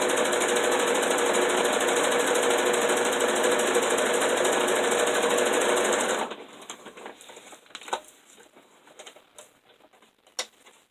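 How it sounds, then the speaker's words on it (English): A sewing machine stitches a seam on fabric for a pad bag, a loud, steady mechanical whir close by that stops partway through, followed by quiet handling clicks and rustles of the cloth. "So we're just going to sew a seam here"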